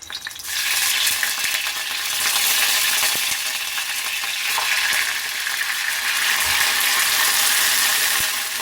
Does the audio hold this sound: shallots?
yes